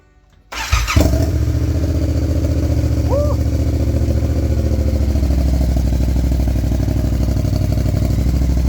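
A modified Yamaha R7 motorcycle engine cranks and fires up, then settles into a loud, steady, rumbling idle close by, with no talking over it.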